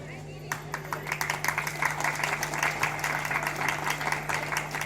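A school sports day audience claps together in a dense, steady patter that starts after a brief pause and continues throughout, with a low electrical hum beneath and faint talk mixed in.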